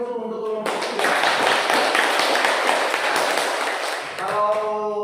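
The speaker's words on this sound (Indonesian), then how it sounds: "berikan aplaus untuk kelompok 3" A classroom of students applauds group 3 in a dense burst of clapping lasting about three and a half seconds, loud and close, with a voice speaking briefly just before and resuming as the clapping fades.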